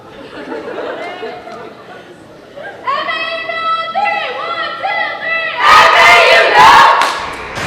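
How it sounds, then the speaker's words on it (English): A girls basketball team shouts a cheer together, loud and rhythmic chanted voices building up, ending in a burst of cheering and yelling close to the microphone. "Ladies, take us out with a cheer"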